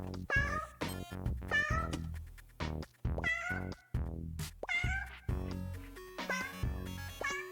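Robot cats in the video game 100 Robo Cats give a rapid string of loud, close, high meows, roughly a dozen cries in uneven bursts with short gaps.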